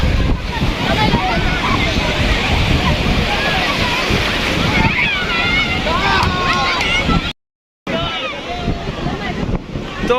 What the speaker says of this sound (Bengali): তো দেখেন কি পরিমাণ ঢেউ হচ্ছে।